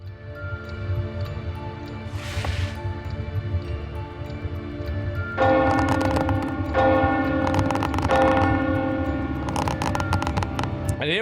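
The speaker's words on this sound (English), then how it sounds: "And here was me thinking the bell was summoning people for the show." A bell tolls in The Sexy Brutale, a loud, ringing strike. Layered music joins midway and continues alongside it, with no talk.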